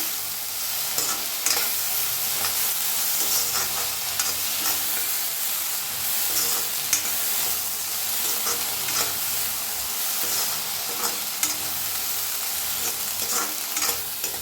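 Food dry-roasts in a pan with salt added, crackling and sizzling continuously at close range, with frequent scraping and stirring strokes against the metal and no one talking.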